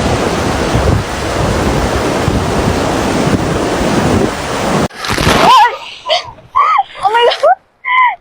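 Massive waves driven by Typhoon Kalmaegi pound the shore at Quy Nhon, Vietnam, a loud continuous roar of surf with heavy wind buffeting the microphone. The surf cuts off abruptly and excited voices follow.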